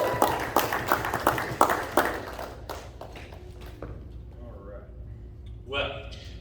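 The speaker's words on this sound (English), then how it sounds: "can we all give a big round of applause for Allen?" A church congregation breaks into a round of applause for a guest speaker, with a burst of fairly close clapping that fades away after a couple of seconds into quiet room murmur.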